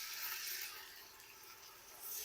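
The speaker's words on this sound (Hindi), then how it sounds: "अब इसमें मैं थोड़ा सा पानी शामिल करूंगा।" Water poured into a hot pan of garlic ginger paste frying in oil, a steady broad hiss and splash rising and falling over about two seconds, close and fairly soft, with no voices.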